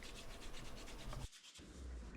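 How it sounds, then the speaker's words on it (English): Rhythmic back-and-forth rubbing of sandpaper on wood, close and steady, with a brief pause before the strokes resume. "Then I'm just shaping it by hand sanding."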